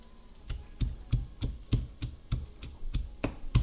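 A knife roughly chopping peeled garlic with a pinch of salt on a board, about a dozen close, evenly spaced thuds in a quick steady rhythm, no talking.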